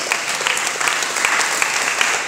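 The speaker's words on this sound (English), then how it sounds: "A warm round of applause." An audience at a school certificate presentation applauds, with dense, even clapping from a fair-sized crowd that carries on steadily without any talk.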